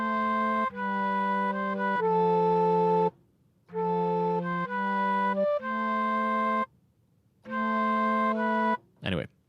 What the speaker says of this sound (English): this Indian Bansuri flute